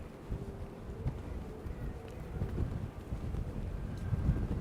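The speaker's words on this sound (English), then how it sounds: "So windy right now." Strong wind gusting across the microphone outdoors in Brooklyn on a late afternoon heading toward Coney Island, a steady low rumbling buffet that swells louder toward the end, with faint street noise beneath.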